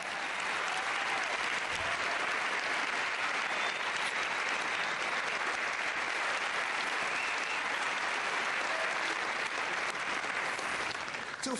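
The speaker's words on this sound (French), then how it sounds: "Un grand applaudissement pour une carte." An audience at a magic convention applauds after a card trick, a steady, loud wash of clapping that holds evenly for about eleven seconds without letting up.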